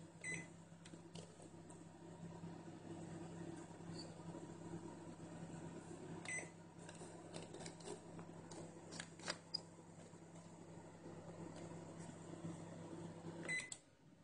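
A microwave oven runs with a steady low hum while baking a whole wheat, cheese-free pizza topped with olive oil, holding a constant drone with a few faint clicks and rattles over its length.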